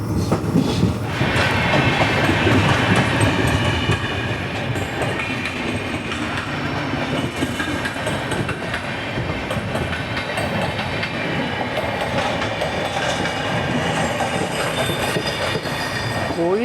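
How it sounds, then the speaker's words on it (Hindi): Rajya Rani Express (17611) rolling into Manmad Junction on the Nanded to Mumbai run, a steady loud rumble of wheels with clickety-clack rhythm and faint squeal, continuous with no talk. "हमारी ट्रेन इंटर कर रही है मनमाड जंक्शन"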